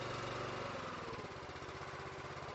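The small engine of an Anderson IFX-660 bale wrapper idles in a steady, even mechanical drone, faint and continuous with no break.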